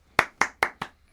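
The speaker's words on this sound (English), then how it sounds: "Round of applause for them both." Four sharp, evenly spaced hand claps ring out close and alone in a quiet room during a debate event.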